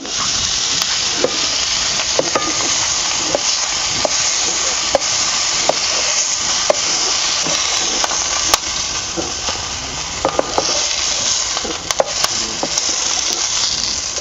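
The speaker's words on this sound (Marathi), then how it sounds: "हे बघा असं भाजून घेतल्या त्या मिरच्या आणि दोडक्याच्या फोडी" Green chillies and ridge gourd pieces roast in a pan with a steady close sizzle, punctuated by frequent scraping and tapping of a spatula stirring them throughout.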